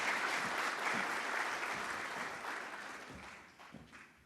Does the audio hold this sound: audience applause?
yes